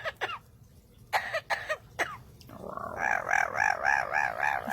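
A pet parrot imitates coughing with a few short, sharp, hacking bursts spaced apart. A warbling, repeated call follows, close and fairly quiet.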